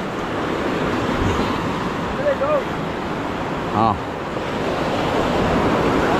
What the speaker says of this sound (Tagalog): Alon malalaki nga, baka maisahan.